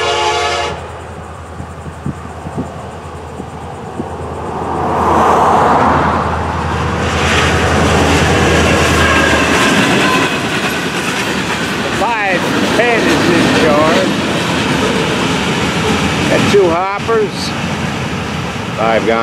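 An FEC 411 freight train rumbles steadily nearby with a long blaring chime horn, then clattering wheels and squealing as cars roll past for a long stretch.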